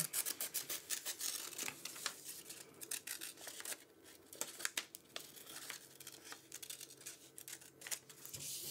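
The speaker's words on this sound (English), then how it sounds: "So all I'm doing now is cutting it out, and then I'm gonna glue it into my card." Scissors snip and rustle through a paper coupon for a handmade Valentine card, a steady run of close, crisp cuts and crinkles with no voices.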